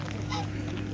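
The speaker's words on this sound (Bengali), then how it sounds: "রাজহাঁস" A swan or goose at a lakeside boating area gives a short, nasal honk close by, brief and alone against a low background hum.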